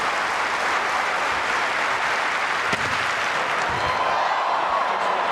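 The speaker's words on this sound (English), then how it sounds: "Trying to get the crowd amped up for his very first attempt." Stadium crowd at a Commonwealth Games men's long jump applauding steadily before an athlete's first attempt, a dense, sustained wash of clapping and cheering heard from within the stands.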